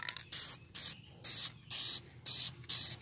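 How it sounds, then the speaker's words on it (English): A Krylon spray paint can sprays a camper in six short, evenly spaced hissing bursts, each about a third of a second long, close and steady with brief quiet gaps between them. "So I've been hitting her with some spray paint."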